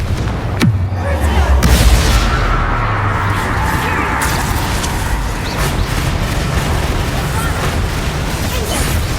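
Confringo blasting spell going off in Hogwarts Legacy, a loud booming burst with sharp cracks near the start, then a sustained rumbling roar of game effects under continuous background din.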